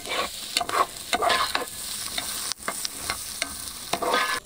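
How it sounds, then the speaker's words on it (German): Duck wishbone and skin frying slowly in rapeseed oil, a loud, close, steady sizzle punctuated by repeated scraping stirs in the pan, with no voices. "Den Wunschknochen und die Haut, das brate ich auch mit an."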